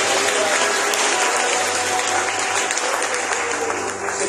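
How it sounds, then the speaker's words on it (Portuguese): A church congregation claps loudly and continuously during a worship service, a dense, even wash of applause filling the room from start to finish. "Aplauda Jesus bem forte"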